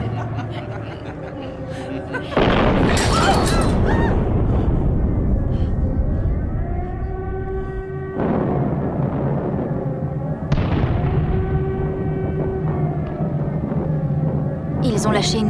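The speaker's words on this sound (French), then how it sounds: "Ils ont lâché une bombe dans la rue voisine." Bombs explode during an air raid in a wartime film set in hiding, heavy booming bursts rumbling loudly and repeatedly, mixed with voices and dramatic sound.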